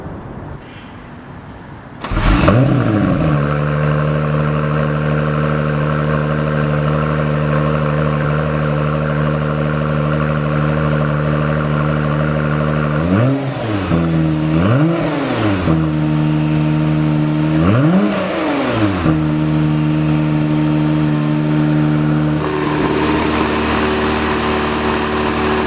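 An Acura NSX idles steadily with a loud, rumbling exhaust, then gets several sharp throttle blips around the middle and near the end, each rising and falling quickly, with no one talking.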